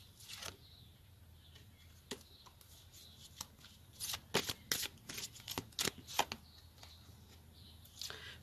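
Tarot cards being shuffled, a run of crisp riffling bursts and soft slaps, close and fairly quiet, with sparse clicks between and no voice.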